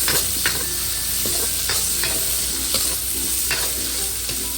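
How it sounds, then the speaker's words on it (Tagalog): Sliced onion sautéing in leftover pork chop frying oil for a Filipino pork steak, a loud continuous sizzle with spatula scrapes at a steady stirring rhythm, close up and with no voices. "Sa pinagprituhan, mag-gisa po tayo ng sibuyas."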